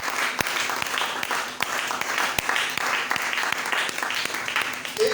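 A church congregation at a Bible seminar applauds steadily and loudly, with dense clapping and a few sharper individual claps standing out, sustained for several seconds with no pause.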